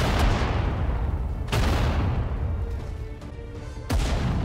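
Loud gunfire and booming blasts in the World War II strategy game Sudden Strike 4, Kursk battle, with three sharp shots cutting through a heavy, continuous rumble of battle noise.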